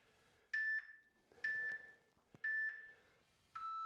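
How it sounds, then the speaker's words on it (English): Four clear electronic beeps from a workout interval timer sound about a second apart, each a short steady tone, with the last one pitched lower, over a quiet background. "Go to the last beep. That first beep's a 3-second warning."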